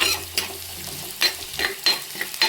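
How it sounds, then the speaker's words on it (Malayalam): A spoon stirs and scrapes through food frying in a pan while it browns, giving irregular clattering strokes over a soft sizzle, close and clear with no talk. "നന്നായിട്ട് ഇളക്കാം ഒന്ന് ബ്രൗൺ കളറാവുന്ന വരെ നമുക്ക് ഇളക്കി വെക്കാം"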